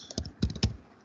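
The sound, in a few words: typing on a computer keyboard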